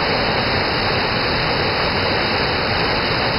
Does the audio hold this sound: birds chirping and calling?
no